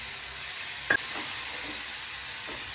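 A steady sizzle of tomatoes sautéing in a pan with a little salt, with a brief stir or scrape, continuous and fairly quiet.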